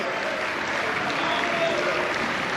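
An audience at a televised quiz-show final applauds a visiting education minister, steady dense clapping filling the hall throughout at a constant level, with no voices breaking through.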